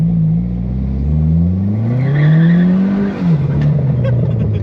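A 1985 Dodge minivan with a swapped SRT4 turbo engine revs up close, its pitch climbing steadily before dropping off as the throttle is released, loud and raspy with no one talking.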